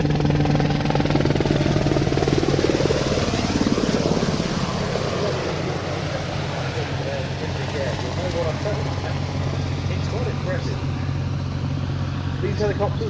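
A search and rescue helicopter of about 5 tons hovers close by, its rotor downwash and turbine making a loud, steady, broadband roar that holds throughout without a break.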